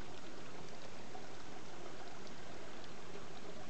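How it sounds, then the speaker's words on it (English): Water trickling through a small channel of Bellambi Creek in rainforest along the Upper Escarpment Trail, a soft, continuous babbling wash, faint and steady, without voices. "Trickling water, my friends."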